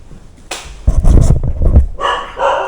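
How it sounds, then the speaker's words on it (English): Reactive dog barking in short bursts close by, a loud broken volley with panting and whimpering between barks. "So he'll keep barking and howling and doing his thing"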